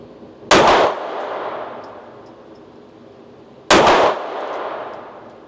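Two sharp, loud pistol shots from a Staccato handgun firing match ammunition, each ringing off a steel target with a metallic clang; the reports fall about three seconds apart and the ring decays after each.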